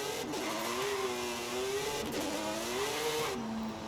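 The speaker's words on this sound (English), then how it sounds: "it sounds so accurate to what a 3-rotor actually sounds like" A three-rotor car engine in the racing game Forza Horizon 5 revs up and down in steady, buzzing waves that ride high and then settle lower, loud and continuous with no talking.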